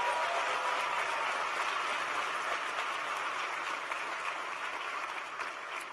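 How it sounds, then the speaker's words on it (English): Audience applause after a call to honor supporters at a 2016 event with the U.S. president: dense, steady clapping from a large crowd, loud and sustained for the full stretch with no pauses. "Give them a big round of applause for their support."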